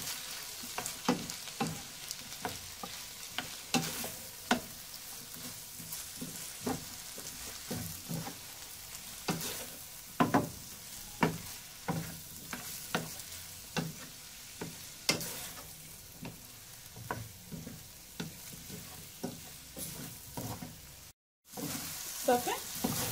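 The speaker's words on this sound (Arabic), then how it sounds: "بعد ما كتشحر البطاطا حتى هي مع البصلة غادي نضيفو ليها التوابل كلهم دقة واحدة" Potatoes and onion fry and sizzle in a pan with spices, stirred in a steady rhythm of scraping strokes over a constant crackle, close and moderately loud with a brief dropout near the end.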